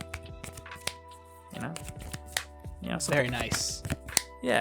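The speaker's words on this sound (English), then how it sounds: "So when you're hand shuffling, it sounds something like this." Playing cards in Dragon Shield sleeves are hand shuffled in quick bursts of soft riffling slaps, close and crisp, with a person talking over them.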